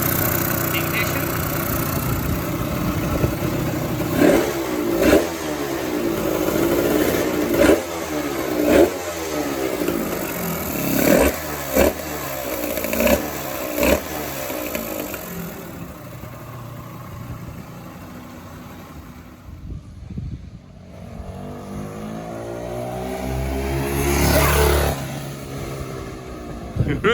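A motorcycle engine in a shed fires up and runs in uneven bursts, with sharp pops and revs repeating for several seconds, then dies away to near quiet before a final revving swell; a voice speaks at times.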